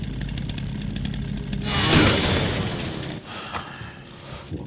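A chainsaw in the video game Resident Evil Requiem roars loud and close, revving up around the middle to a harsh, buzzing peak. It then settles into a lower, grinding drone, with a background hum running throughout.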